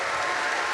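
Thick, even applause from a large crowd at Star Wars Celebration, cheering the stage crew; a continuous wash of many hands clapping, close and loud, with no break.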